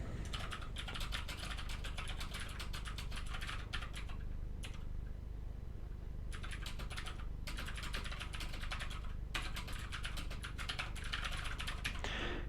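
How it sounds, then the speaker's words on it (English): Rapid typing on a computer keyboard, dense bursts of clicking keystrokes close up, with two brief pauses and no voices. "let's type something in"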